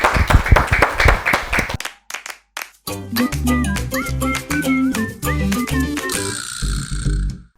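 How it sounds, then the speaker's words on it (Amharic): An audience at a student quiz competition claps for a student, a dense burst of applause lasting about two seconds before music takes over. "በደንብ አድርጋችሁ አጨብጭቡላት"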